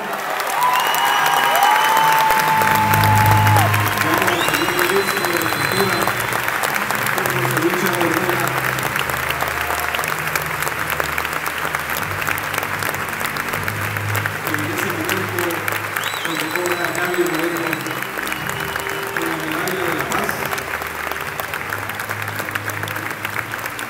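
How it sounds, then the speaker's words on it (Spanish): A crowd at a Medalla de la Paz honor ceremony gives sustained, loud applause for the full stretch, with cheers and voices mixed into the steady clapping. "Un fuerte aplauso, por favor"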